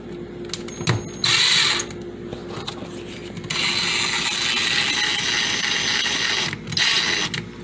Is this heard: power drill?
yes